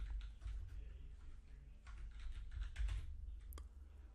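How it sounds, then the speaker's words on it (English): Keys on a computer keyboard clatter in a quick, uneven burst of taps, close but faint against a low background hum, with no voices. "And I'm going to type in Brent"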